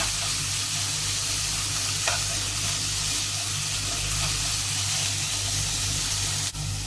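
Chicken thoran with garam masala stirred in a pan, a continuous loud sizzle with occasional soft scrapes of the spoon, steady throughout and ending on a brief clatter.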